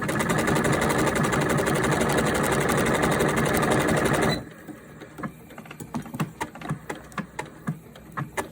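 A sewing machine stitches a sleeve with a fast, even mechanical whir for several seconds, then stops, leaving soft irregular clicks and handling noises.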